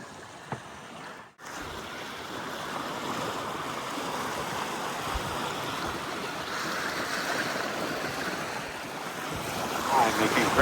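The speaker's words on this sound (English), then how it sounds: "White caps, about 14 knots of wind, 15 knots of wind." Wind of about 14 to 15 knots and whitecap waves wash steadily around a small sailboat running downwind, a continuous rushing hiss with microphone buffeting.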